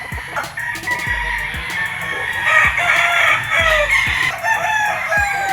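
A gamefowl rooster crows at a game farm, a long ringing cock-a-doodle-doo over steady clucking and the calls of other fowl, with the crowing rising and swelling near the middle.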